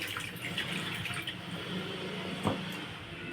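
Water being poured into an Andhra-style fish curry, a steady running trickle over faint kitchen background, with one brief louder splash near the end.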